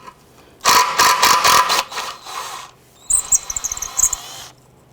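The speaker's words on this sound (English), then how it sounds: "Using a 13mm socket, we're going to loosen and remove this bolt." A ratchet with a 13mm socket works a bolt loose on a 1999-2004 Jeep Grand Cherokee rear upper control arm, a rapid run of loud close clicks followed by a second, lighter burst of ticking.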